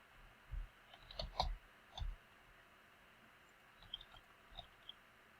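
Quiet, sparse keyboard typing and mouse clicks while an email is written in a webmail application, coming as short irregular bursts of taps with pauses between them.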